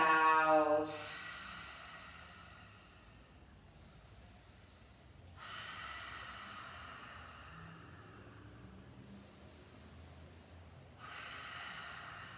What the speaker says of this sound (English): Full breath in. Full breath out.